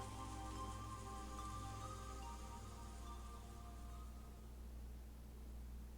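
Steady rain falls in the Umineko visual novel game, a soft, even hiss that continues throughout and sits very faint beneath quiet sustained musical tones.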